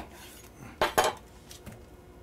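A large red onion sliced in half with a knife on a cutting board, two quick close thuds of the blade in succession followed by a fainter tap, in a quiet kitchen.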